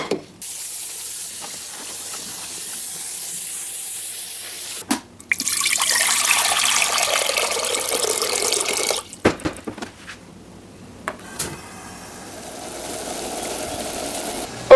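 Running tap water splashes steadily for a few seconds as rice is rinsed, broken by clatters and brief pauses, then a softer stream of water near the end.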